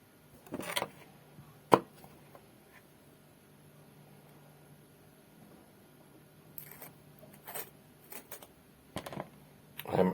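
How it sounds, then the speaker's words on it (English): Kielbasa and onions being cut into small pieces, a few sparse, quiet knife chops and taps against a board, scattered irregularly among long near-silent gaps. "we're going to cut these kielbasa in the small pieces, and then also cut these onions"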